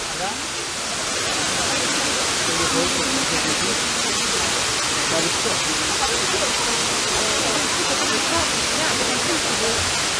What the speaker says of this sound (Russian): Все это происходит возле такого красивого водопада.